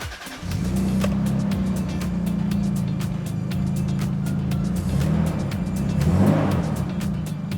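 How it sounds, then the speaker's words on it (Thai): A Toyota Supra fitted with a TRD short shifter and boost controller cranks and fires up, then settles into a steady, rumbling idle that holds close and loud, with a brief rise in revs near the end. "ลองสตาร์ทเครื่องดู"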